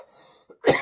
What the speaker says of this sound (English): So pardon me for coughing.